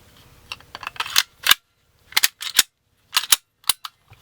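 Sharp metallic clicks and snaps as a Walther P99 or PPQ 9mm striker-fired pistol is reassembled, slide and parts clacking in close, loud bursts separated by brief silences.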